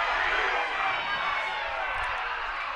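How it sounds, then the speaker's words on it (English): Crowd noise at a varsity men's Rugby Union match during a kick, a constant dense murmur and cheer from spectators throughout, with talk underneath. "the crowd will not fall silent as traditional in Rugby Union"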